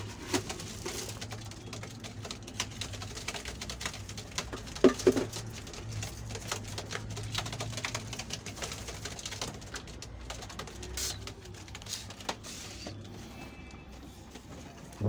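Homing pigeons flock down to feed at the loft, with soft wing flutters, patters and scattered light coos against quiet outdoor background, fairly faint and irregular.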